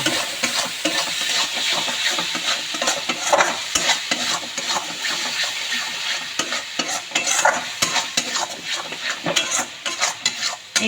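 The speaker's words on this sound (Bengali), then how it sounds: "এবার এই সব কিছুকে আমি ভালো করে কষিয়ে নেব" A spinach paneer masala with salt and sugar is stir-fried in a pan: loud, close, rhythmic spatula scraping and clatter over a continuous sizzle, with no one talking.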